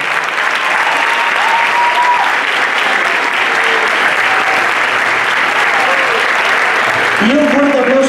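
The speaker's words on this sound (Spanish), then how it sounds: "Un fuerte aplauso para ellos." A crowd applauds steadily and loudly for two singers at a choreographed stage show, a dense wash of clapping with some cheering, lasting throughout.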